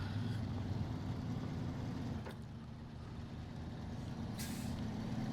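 A heavy truck engine idles with a steady low rumble in SnowRunner, and two short hissing bursts of air brake cut through, the second one longer.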